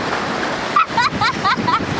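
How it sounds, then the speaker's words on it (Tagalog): Strong sea waves wash in as a steady, rushing roar at a beach outing, with brief voices breaking in over the surf toward the end. "Yung lakas ng alon eh."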